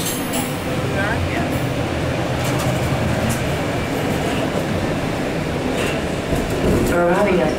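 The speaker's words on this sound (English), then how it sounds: "We're arriving at Vaughan Metropolitan Center." A TTC Line 1 subway train rolls into Vaughan Metropolitan Centre station, a steady loud rumble of wheels on rails with brief squeals and chimes, while a voice speaks over the noise.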